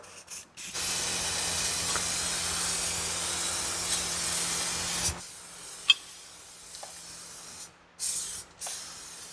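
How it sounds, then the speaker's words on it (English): Protective coating sprays from an aerosol can onto the suspension nuts and bolts under a truck, a close, steady hiss lasting several seconds that is followed by a few short spurts. "So I'm gonna go ahead and coat the nuts and bolts so they come out nice and easy."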